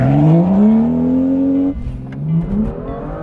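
Stage 2 BMW M2 tuned to 428 hp accelerating hard from a standstill with wheelspin, loud rising engine note climbing through a gear, a sharp shift, then revving up again close by.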